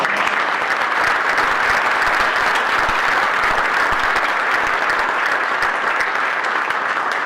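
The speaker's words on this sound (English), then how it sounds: "we will have an applause for that group" A large audience at a Southern California PGA annual meeting applauds steadily, a dense, even wash of clapping that continues without a break.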